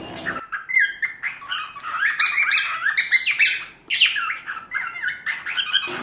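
Lovebirds eating coriander give loud, close, rapid squawks and chirps in overlapping bursts that run nearly without pause.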